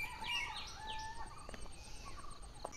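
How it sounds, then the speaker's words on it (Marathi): Sparrows chirp in the early morning outdoors near a forest, with a series of short, quiet tweets scattered over a soft background hush. "चिमण्या ओरडत आहेत."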